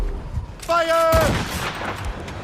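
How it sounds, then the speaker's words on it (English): A Puckle gun fires from a ship in Assassin's Creed Rogue: a short burst of loud gunfire with a sustained whistling tone, then a rumbling tail. "Master Puckle's gun fires more shots than an artillery brigade, and twice as fast"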